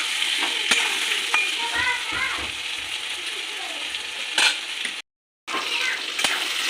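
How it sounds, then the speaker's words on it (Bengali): Eggplant, potato and pumpkin pieces with a little salt and turmeric frying in a pan, a close, steady sizzle broken by scraping stirs and a brief silent gap. "ভাজা ভাজা করে নেব"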